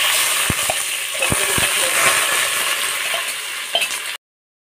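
Chopped onions frying hard in hot oil for a dhaba-style Bihari chicken curry, a steady loud sizzle and crackle with a few sharp spatters and pops throughout, no talking, cutting off abruptly at the end.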